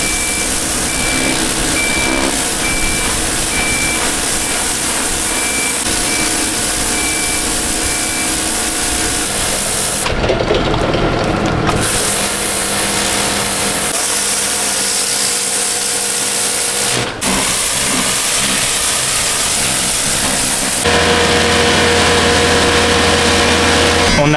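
A Kärcher pressure washer blasts a boat hull in a boatyard careening area, a loud continuous hiss and motor drone that runs almost throughout, with brief breaks and shifts in tone.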